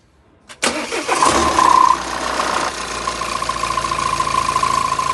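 A Volvo S90 car engine cranks and fires up with a sharp burst, revs briefly, then settles into a steady, close idle with a faint rhythmic knock.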